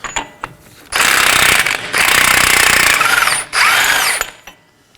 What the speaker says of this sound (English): Now to remove our 32mm axle nut. You'll want to use an impact gun for this